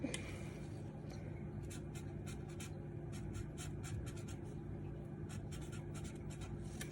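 A pen writes a label on a strip of medical tape during a central line dressing change, giving soft, quick scratching strokes over a quiet, steady background hum.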